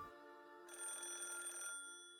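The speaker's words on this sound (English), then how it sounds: "Then the phone rang." A telephone rings in the video game Higurashi When They Cry, a bright electronic bell trill that sounds once for about a second over a soft background tone, with no voices.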